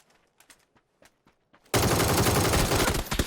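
Sustained automatic gunfire in PUBG on console erupts suddenly after a few faint clicks and taps, a loud, dense, continuous rattle of rapid shots that keeps going to the end.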